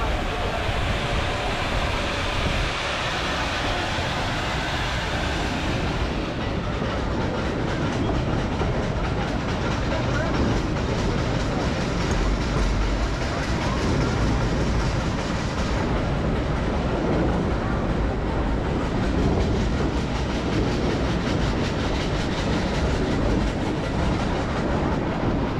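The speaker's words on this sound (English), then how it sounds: "Now our train going through an estate." A Nilgiri Mountain toy train rolls along its rails through an estate, giving a steady, close rumble and clatter of wheels and carriages that holds at an even loudness throughout.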